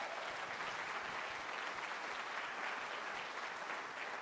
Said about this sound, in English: Let's give a big round of applause to Yavapai College.